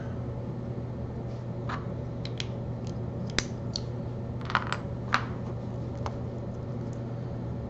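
Pieces of LEGO set 21110 are pulled apart and sorted, giving sparse, light plastic clicks and small clatters over a quiet, steady background hum.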